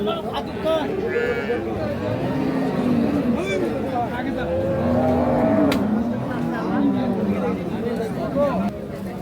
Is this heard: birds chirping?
no